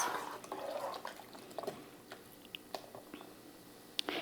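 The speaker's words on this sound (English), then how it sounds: "And this is the best part, that wonderful sound. I'm gonna just add a beer to this." Shiner beer is poured into a soup pot, a quiet gurgle and splash that trails off into scattered drips and small taps near the end.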